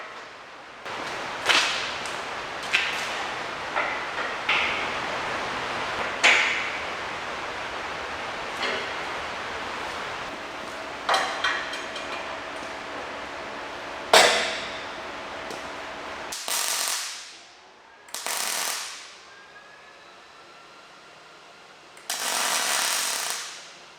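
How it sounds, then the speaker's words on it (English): Welding the last piece onto the frame of a 2000 Ford F350 flatbed, with sharp crackling bursts of tack welds and longer hissing runs of arc noise, close and fairly loud, separated by short silences. "before I start welding the last piece on"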